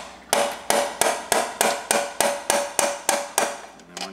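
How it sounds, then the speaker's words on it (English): A hammer strikes a metal seal puller about ten times in a steady rhythm on a Turbo Hydramatic 400 transmission, each blow sharp and ringing, loud and close, with no talking. "then you hit it with a hammer"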